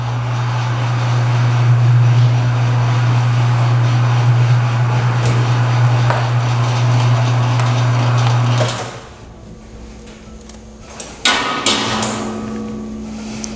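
Dough mixer kneading bread dough for sweet rolls: a loud, steady motor hum with a low drone runs for about nine seconds, then cuts off, leaving quieter clatter and a few knocks.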